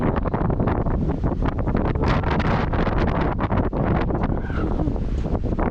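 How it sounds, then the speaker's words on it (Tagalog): Strong wind outdoors in a front yard batters the microphone with a dense, unbroken roar and gusting rumble, loud and close throughout with no voices heard. "It's so windy."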